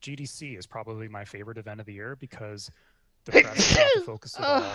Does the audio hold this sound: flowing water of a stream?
no